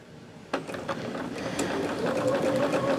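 A sewing machine starts up and runs steadily with a fast, even mechanical whir and rattle, fairly close and moderately loud, with no talking over it.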